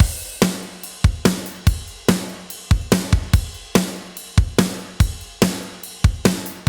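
A drum kit plays a steady groove with punchy, sharp hits of kick, snare and cymbals, close and dry with natural decay between strikes.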